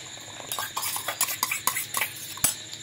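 Mango pulp and sugar being stirred together in a metal pot, a rapid series of close, sharp scraping clinks of a spoon against the pot at an uneven rhythm.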